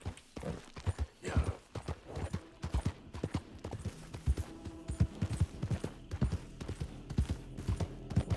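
Horse hooves clip-clopping at a galloping rhythm in Red Dead Redemption 2, a steady run of close, fairly quiet hoofbeats with a brief vocal urging at the start.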